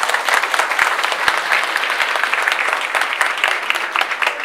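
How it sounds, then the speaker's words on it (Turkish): Audience applause at a political party's solidarity dinner: loud, continuous clapping from many hands in an indoor hall, with occasional sharp thumps. "sevgili dostlar, sevgili konuklarımıza benden de bir alkış yollar mısınız?"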